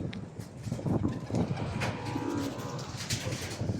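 Pigeons at a home loft give low, soft cooing calls over a busy ambient background with faint rustling and other bird sounds.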